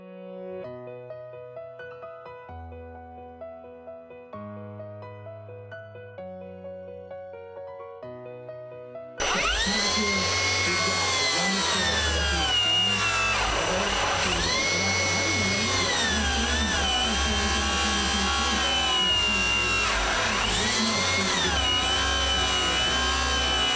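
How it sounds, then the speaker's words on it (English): A track saw cuts along marked lines in a workpiece, starting after a quiet stretch of music with a sudden loud, sustained whining motor and rising and falling pitch as the blade works. "clamped my track saw on and lined it up very carefully to those lines and made my cuts"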